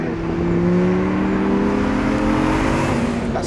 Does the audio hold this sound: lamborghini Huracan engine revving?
yes